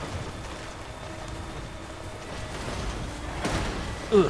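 Steady rain hiss in the game Death Stranding, a soft even wash held throughout, with a slight swell and a brief low thump near the end.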